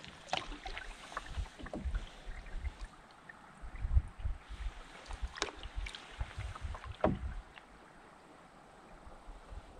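A canoe paddled along the flooded South Branch of the Harris River, with irregular close paddle strokes and water splashes over a soft wind and water background.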